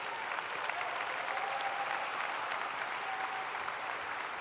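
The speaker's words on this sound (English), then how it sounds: "Please give your parents and friends, everyone, a big round of applause" A large audience at a college of agriculture, natural resources and design graduation ceremony breaks into steady, sustained applause that fills the hall evenly for several seconds, with no speech over it.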